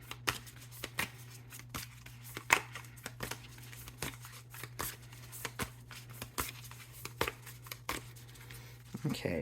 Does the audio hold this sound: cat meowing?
no